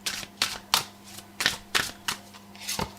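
Tarot cards are shuffled and drawn, giving a series of sharp, close card slaps at an uneven rhythm, about eight in three seconds, over a faint steady hum with no talking.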